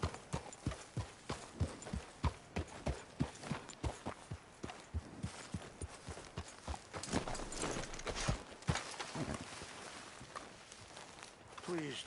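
Horse hooves in Red Dead Redemption 2 beat a steady, close clip-clop rhythm that speeds toward a gallop, with voices speaking over the hoofbeats.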